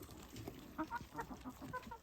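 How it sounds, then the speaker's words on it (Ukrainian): Leghorn roosters and chickens cluck and chatter in a few short, close calls, fairly quiet against farmyard background noise. "Також у нас є півники легорна до продажу, багатенько їх"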